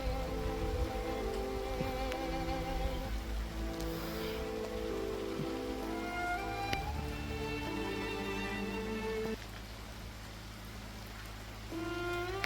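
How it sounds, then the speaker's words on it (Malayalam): Light rain patters steadily in a soft, continuous hiss at a disaster-hit area near a Bailey bridge under construction in Kerala, with a low background hum and some faint tonal sounds. "ചെറിയൊരു മഴ ഉണ്ട് കേട്ടോ അവിടെ"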